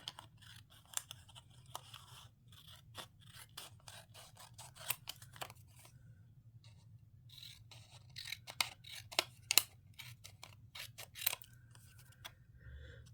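Scissors trimming something, heard as quiet, close, irregular snips and small rustling clicks spread across a low hum with no talking.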